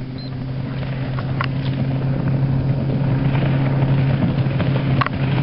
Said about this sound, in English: There was a bass boat screaming by.